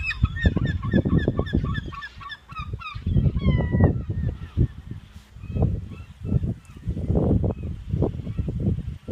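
Seagulls attacking a chicken on Block Island: loud, repeated harsh squawks and honking bird calls come in dense bursts throughout, with wingbeat-like flurries, close by and with no talk.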